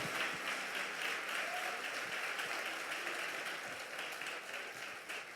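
Church congregation applauding, a continuous mass of clapping from many hands at moderate distance, steady and gradually fading.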